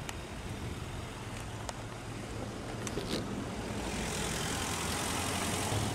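A 2006 Lincoln Town Car Signature Limited with Ford's modular 4.6-liter naturally aspirated V8 runs with a steady, loud low rumble that swells slightly louder toward the end, with no speech.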